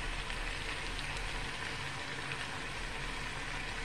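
Potatoes and onions fry in a pan with a soft, steady sizzle and crackle, fairly faint and continuous with no talking.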